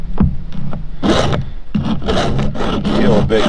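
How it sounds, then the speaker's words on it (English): A hand file strokes back and forth across a chainsaw chain that has been on the saw for two years, giving loud, close rasping scrapes in a steady rhythm of repeated short passes with no talk. "it doesn't take much time to tune the chain up real quick"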